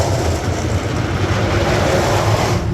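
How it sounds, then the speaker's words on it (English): A roller coaster lift hill motor at Six Flags Great Adventure drones steadily, a continuous mechanical rumble heard from a distance with broadband outdoor noise and no talking. "They got the lift hill motor going, so hopefully that's a good sign to come."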